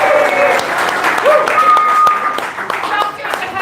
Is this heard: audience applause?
yes